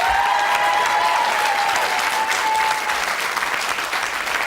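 Studio audience on the Blockbusters game show applauding a departing contestant, a steady, full burst of clapping that fades slightly toward the end.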